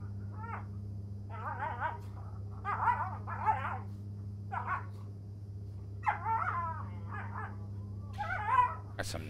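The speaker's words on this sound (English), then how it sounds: "Got some barking dogs over there." Dogs bark nearby in short yipping bursts, in uneven clusters with pauses between, some barks sharp and some whimpering, over a constant low electrical hum.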